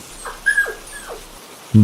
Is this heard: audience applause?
no